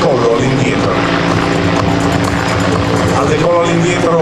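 An Italian Army AH-129D Mangusta attack helicopter lifts off backwards at an air show, its engine and rotor making a loud, continuous, broadband roar that holds steady throughout.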